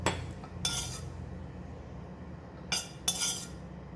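A metal utensil scrapes and clinks against a pan while fried garlic and garlic oil are lifted out, in two quick bursts, one early and a pair near the end, with quiet gaps between.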